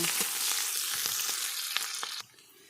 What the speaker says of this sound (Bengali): তো এগুলো আমি কিছুক্ষণ ভেজে নেব